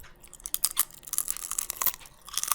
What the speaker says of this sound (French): Est-ce que vous entendez à quel point elle croustille la pizza?